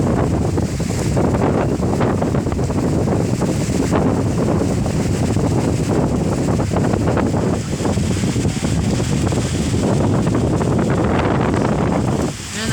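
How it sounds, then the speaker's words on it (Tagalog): Strong, steady northeast monsoon wind roars and buffets the microphone continuously, with a constant rushing noise and no pauses. "Lakas-lakas po ng hangin. Ang hangin na. Grabe na hangin dito."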